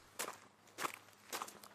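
Three quick footsteps fall in a fast, even rhythm for a character hurrying along in a village horror story, each a crisp, close scuff against a quiet low hum.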